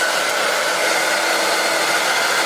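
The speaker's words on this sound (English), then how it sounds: "And then go back to blow drying" A hair dryer blows steadily on a wig bald cap, a loud, close, continuous whooshing roar with a constant motor tone and no pauses.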